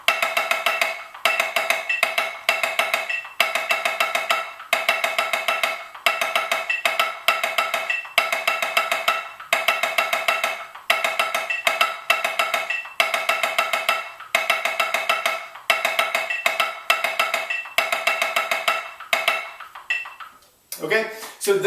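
Snare drum playing a sixteenth-note two-note timing exercise: steady, rapid repeated strokes in regular grouped bursts for about twenty seconds, loud and close, with no talking.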